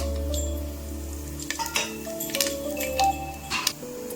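Spices crackle and sizzle in hot ghee for a vegetable biryani, with scattered sharp pops and ticks over a steady low hum, close by, no voices.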